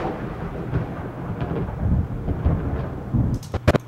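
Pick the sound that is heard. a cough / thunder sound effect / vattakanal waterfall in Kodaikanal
thunder sound effect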